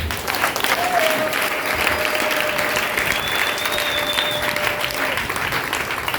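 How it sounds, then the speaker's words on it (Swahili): A church congregation claps steadily for the mothers, a dense, even patter of many hands lasting throughout at a moderate, close level. "Tupigie wa mama zetu makofi"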